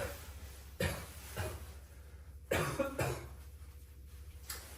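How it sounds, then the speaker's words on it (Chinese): A person sick with fever and a bad cough coughs several times in separate sharp bursts, close by in a quiet room. "这个咳嗽啊，感觉腹肌这里好疼啊。"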